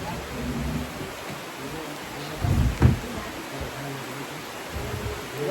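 Steady rain pours at Tudela Highland Resort Eco Park, with a brief low rumble of thunder near the middle and faint background voices.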